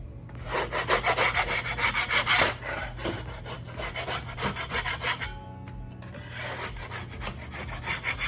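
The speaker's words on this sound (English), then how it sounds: "take the mud knife and scrape over this patch, knock any big chunks off" A metal mud knife scrapes over a drywall patch in repeated rhythmic strokes, with a harsh rasping close to the wall, a brief pause near the middle, then more scraping.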